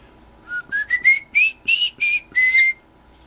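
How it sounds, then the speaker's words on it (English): A pet bird gives a quick run of about eight bright, rising whistled notes, each short and clear and close to the listener, with no talk. "Just want to whistle."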